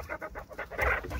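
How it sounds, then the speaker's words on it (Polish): Chickens cluck and squawk in short, agitated bursts, close by, with a sharper flurry in the middle as roosters fight. "koguty się tu gryzą"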